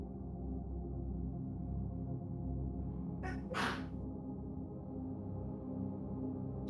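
A single sharp sneeze bursts out briefly over a low, steady background hum, close by.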